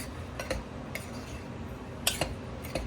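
Flour, cornmeal, sugar and salt are stirred in a bowl, giving a few light clicks and clinks of a utensil against the bowl over a soft, steady background.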